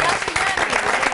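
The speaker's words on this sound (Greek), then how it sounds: "Έλα ρε παιδιά, χειροκρότημα στο Γιάννη." A short burst of audience applause, dense and close, with voices mixed in under the clapping.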